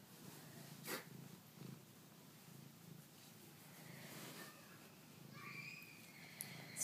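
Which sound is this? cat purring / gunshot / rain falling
cat purring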